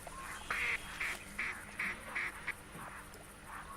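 Ducks quack in a hunting video game, a run of short, bright, evenly spaced calls repeating at close range over a steady background hum, with no talking.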